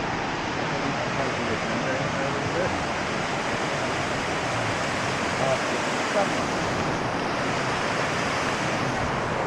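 Rushing water at the Johnston Canyon falls gives a loud, unbroken roar of whitewater. The broadband wash stays close and steady throughout with no pauses.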